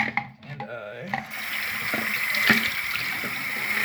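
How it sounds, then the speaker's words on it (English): Water runs from a tap into a container, a steady splashing fill that starts after a brief moment of handling noise and keeps going at close range until the end. "fill a little bit of water."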